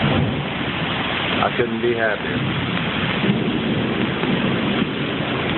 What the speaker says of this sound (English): this is one hell of a good storm